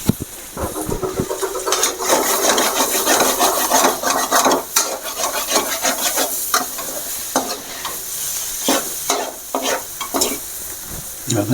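Eggs being broken up and stirred in a pan with a spatula, a steady scraping and stirring over continuous frying sizzle, close and fairly loud throughout, with no voices.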